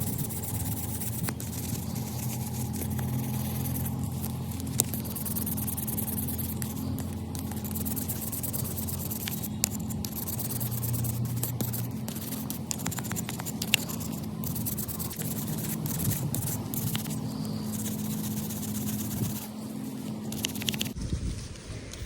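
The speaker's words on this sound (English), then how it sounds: "I'm going to just start scrubbing my pruners and just kind of working some of that grime and gunk off" A wire brush scrubs grime off Felco 2 pruners with quiet, close, irregular scratchy strokes and scrapes, repeated steadily over a low background hum.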